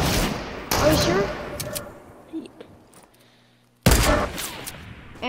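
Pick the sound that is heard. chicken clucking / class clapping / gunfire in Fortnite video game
gunfire in Fortnite video game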